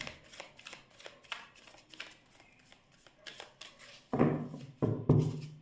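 Tarot cards being shuffled by hand, a quiet run of soft riffling flicks that builds into several louder, fuller shuffle bursts near the end, with no talking over it.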